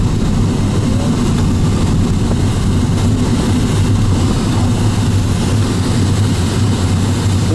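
A light aircraft's engine drones steadily and loudly in flight just after takeoff over France, a constant low hum with no breaks.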